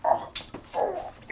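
A dog gives a few short whimpers and a soft yip, close by and fairly loud, in brief separate bursts with no talking.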